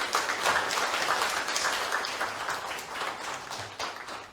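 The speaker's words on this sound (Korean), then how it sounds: "서로 박수 한번 쳐주세요." Party members at a regional joint campaign rally for party leader and supreme council candidates applaud each other, a dense, fairly soft patter of crowd clapping that continues evenly with no voice over it.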